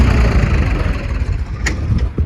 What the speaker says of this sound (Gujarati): અને મિત્રો આપણું ટ્રેક્ટર નીકળી ગયું છે